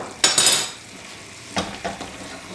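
Spoon scraping and clattering in a cooking pan as tomato paste is stirred, a loud close burst of metal contact at first, then a few lighter knocks and faint sizzling.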